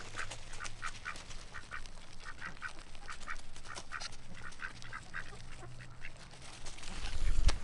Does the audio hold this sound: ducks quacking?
yes